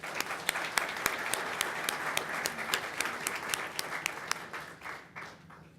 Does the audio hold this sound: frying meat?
no